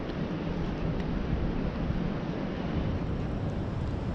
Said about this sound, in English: Wind's blowing.